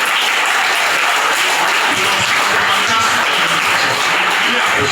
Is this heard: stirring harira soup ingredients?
no